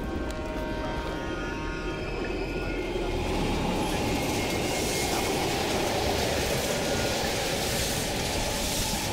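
A train rumbles past through an abandoned East German station in Call of Duty: Black Ops Cold War, a loud continuous rushing roar with rattling wheel noise that swells slightly and holds for the whole stretch.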